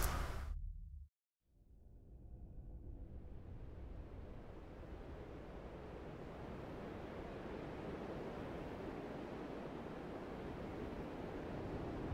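Ocean waves wash onto a beach in the Death Stranding video game, a soft, continuous surf hiss that fades in after a brief cut to silence and then holds steady and faint.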